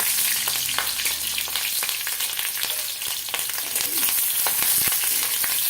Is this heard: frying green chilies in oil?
yes